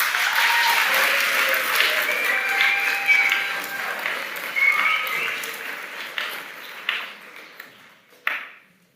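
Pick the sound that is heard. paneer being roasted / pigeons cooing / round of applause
round of applause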